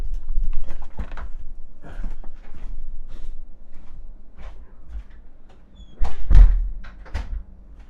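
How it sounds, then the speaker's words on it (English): A door shuts with a sharp thud partway through, heard in a home setting, standing out against quiet background noise, with scattered soft knocks and movement sounds before it. "Oh, I gotta shut that door."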